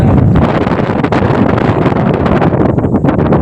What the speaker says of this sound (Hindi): ये देखो हवा चल रहा है,